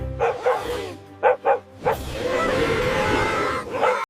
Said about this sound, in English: One last group bark for a great day, pups!